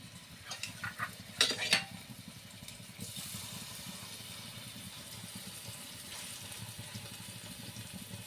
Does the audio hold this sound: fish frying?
yes